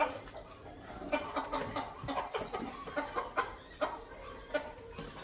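Several country hens and roosters on a home farm cluck in short, irregular bursts close by, a steady run of soft calls over a low background.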